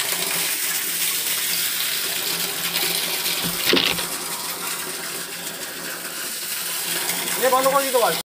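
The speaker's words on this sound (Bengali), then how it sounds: "ট্যাঙ্কিটা পরিষ্কার হয়ে গেছে আর দেখতেই পাচ্ছ জল পড়ছে।" Water pours steadily out of a freshly cleaned water tank, a continuous loud rushing splash with a brief knock partway through, close by and unbroken throughout.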